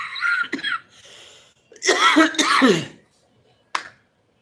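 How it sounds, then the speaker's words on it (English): A person coughs and clears their throat in a few harsh bursts, with a short final cough after a pause, close to the microphone. "I'm coughing."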